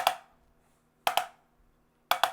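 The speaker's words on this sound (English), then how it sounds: "A push-pull would sound like this" Three pairs of quick, crisp snare drum push-pull strokes, each a fast double hit, separated by about a second of silence; close and fairly quiet.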